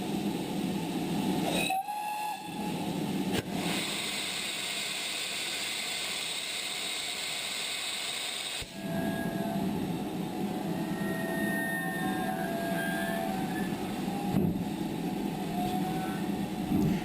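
Heritage steam train on the Llangollen Railway in Wales pulling away from Platform 1, with a whistle and a steady rolling rumble of carriages that shifts in tone partway through, heard from the cab.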